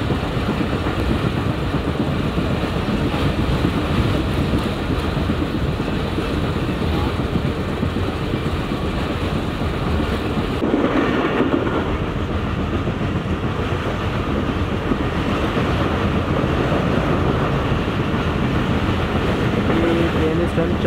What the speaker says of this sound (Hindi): ट्रेन इस टाइम चक जुमरा स्टेशन से गुजर रही है, चक जुमरा जंक्शन।